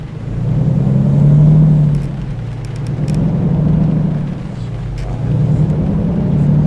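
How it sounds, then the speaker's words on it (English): Volvo truck engine in American Truck Simulator, a loud, steady low drone that swells and eases in slow waves as the revs rise and fall. "I don't know if I like Volvo engines"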